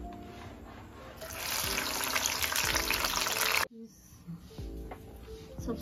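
Okra drops into hot oil on a tawa for a mixed vegetable fry, bursting into a loud, steady sizzling hiss that runs for a few seconds, then cuts off abruptly and gives way to quieter crackles and clatter.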